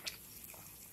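A pet rabbit chews a leaf of ribwort plantain, with a couple of small crisp bites, one at the start and a sharper one at the end, quiet and close.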